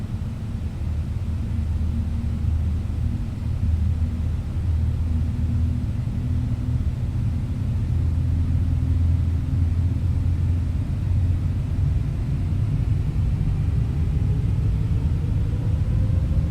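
In Microsoft Flight Simulator, a Boeing 777-300ER's jet engines at maximum power drone steadily with a deep rumble and broad roar, a whining tone slowly climbing in pitch toward the end.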